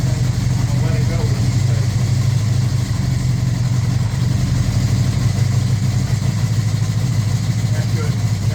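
A 1981 Honda CB650 motorcycle with rebuilt Keihin VB carburetors runs with the throttle held slightly open, giving a loud, steady, even engine drone with little change in pitch.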